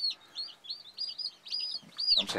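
High, thin peeping chirps from chicken chicks repeat in quick bursts, fairly close, ending with a brief rustling clatter.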